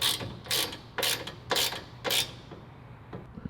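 Allen bolts being tightened on top of a bumper while installing a 2023+ skid plate, heard as a ratchet clicking in five or so short bursts with small gaps between them, close and clear with no talking.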